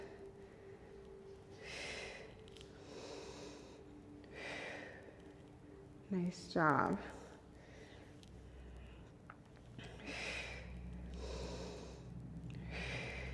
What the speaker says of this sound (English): You're going to hear my breathing on purpose